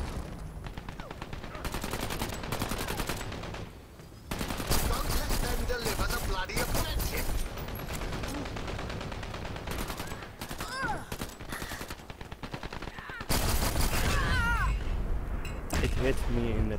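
Dense gunfire crackles loud and nearly continuous through the whole stretch, with fast automatic bursts and heavier volleys layered together and voices shouting faintly beneath.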